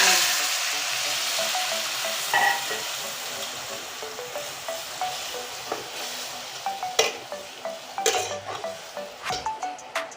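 Onion and jute leaves fry in a pan with a soft background sizzle. Repeated sharp scrapes and clinks from stirring come in an irregular rhythm and grow more frequent toward the end, with no voices.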